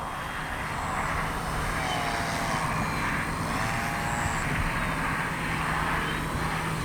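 An Avios Grand Tundra V2 RC airplane flies overhead, its propeller engine buzzing and droning continuously with gentle pitch swells as it passes, moderately loud with steady outdoor background noise.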